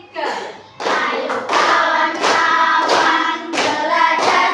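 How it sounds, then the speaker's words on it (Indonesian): Classroom of young pupils singing a song together while clapping hands along, voices and claps steady and loud throughout, with a brief pause near the start. "Boleh dengan sambil tepuk tangan"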